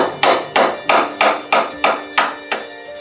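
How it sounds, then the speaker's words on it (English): A hammer strikes nails through pallet wood, eight sharp, evenly spaced blows ringing out close and loud with brief decays between them. "hammering it so they're easy to pull out on the other side"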